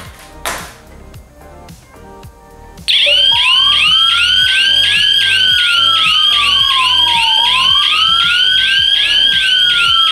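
An indoor siren from a Futura wireless home burglar alarm kit starts suddenly after a few quiet clicks and blares continuously, very loud and close, with a rising and falling warble over a rapid pulsing tone.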